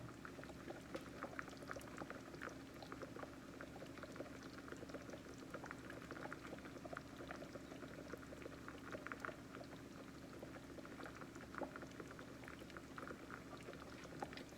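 Pig tail stew bubbling steadily in a pot on high heat, a continuous close simmer of crackling, popping bubbles with no voices, holding an even level throughout.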